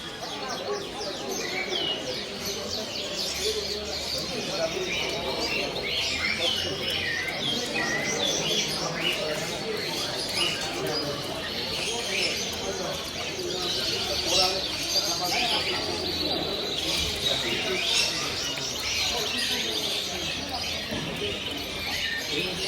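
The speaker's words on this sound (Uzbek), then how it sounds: "kanareykalar" Canaries at a Kara Kamish bird market sing in a dense, continuous chorus of bright chirps and trills, with people chatting nearby throughout.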